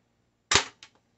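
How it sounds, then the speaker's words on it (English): A single sharp shot from a black UKARMS P618SB airsoft pistol, a crisp close snap followed by a faint secondary click, in otherwise quiet surroundings. "here's the shots from the black airsoft pistol that came in this combo"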